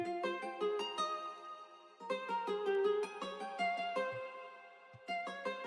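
Plucked nylon-string guitar preset from FL Studio plays a melody layered with higher top notes, bright repeated notes in a steady rhythm with a short break midway, close and clear with no voices.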